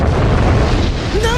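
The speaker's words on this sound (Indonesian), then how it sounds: "Menghantam pesawat bajak laut yang kabur itu, menciptakan sebuah ledakan besar." A large anime-style explosion as a giant rocket arm slams into a fleeing pirate spaceship, a loud sustained rumbling blast with a rising whistle near the end.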